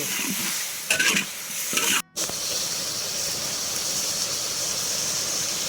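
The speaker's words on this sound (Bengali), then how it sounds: "আমরা এখন মিডিয়াম ফ্লেমে মাংসটাকে কষে নেব।" Chicken pieces coated in garlic paste, chili paste, Kashmiri chili and turmeric sizzle in a pan over a medium flame, a steady close hiss with a few stirring clatters early on and a momentary break.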